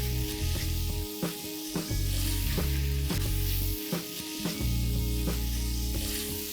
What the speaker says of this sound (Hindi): तड़का अच्छे से कुक करेंगे ताकि वो घी तेल छोड़ दे।